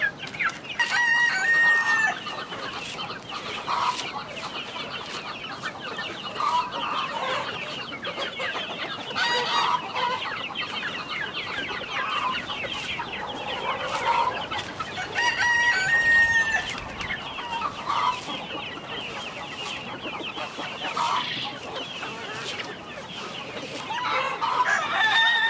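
Aseel roosters and hens in a mixed flock crow and cluck, with repeated crows rising over a constant bed of clucking from nearby and farther birds.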